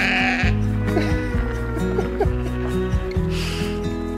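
Sheep bleat on a hillside in Snowdonia, North Wales, several loud, close calls overlapping in quick succession with a faint rushing sound behind them.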